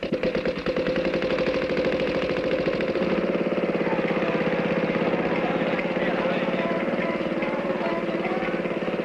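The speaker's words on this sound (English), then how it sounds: "Here comes a motorized rickshaw." Motorized rickshaw engine as a cartoon sound effect, a loud, steady buzzing putter with rapid regular pulses that runs continuously and close throughout.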